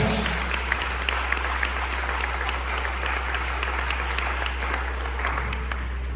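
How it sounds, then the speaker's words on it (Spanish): A church congregation claps in praise to God, a dense, continuous, fairly loud round of applause with no speech over it, accompanied by a steady low hum. "Denle ese aplauso a nuestro Dios."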